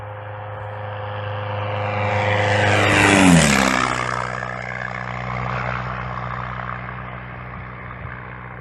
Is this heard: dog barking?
no